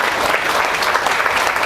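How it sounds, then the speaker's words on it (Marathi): Dense, loud applause from a crowd of women at a women's event, clapping for themselves, a steady unbroken wash of hand claps lasting the whole moment with no speech over it. "एकदा स्वतःसाठी जोरदार टाळ्या तुम्ही वाजवल्या पाहिजेत."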